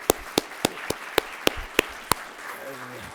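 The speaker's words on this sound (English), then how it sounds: "give them a round of applause" Applause from an audience at a university business competition, eight sharp, evenly spaced claps ringing out before fading into a low murmur and a brief voice near the end.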